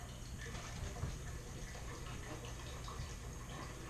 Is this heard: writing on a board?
no